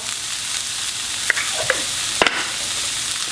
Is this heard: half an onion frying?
yes